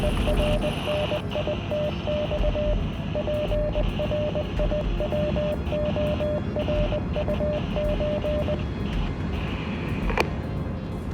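Morse code coming over a radio: a steady pitched tone keyed in short and long pulses, repeating for several seconds over loud hissing static, then stopping before the end.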